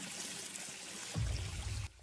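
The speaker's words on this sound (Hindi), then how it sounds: "पानी बंद कर।" Water runs hard from a tap in a film scene, a steady hiss that swells into a heavier splashing gush and then cuts off abruptly near the end.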